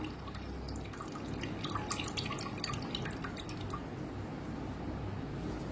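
Water trickles and drains steadily, with scattered small drips landing close by. No voices, just continuous wet running.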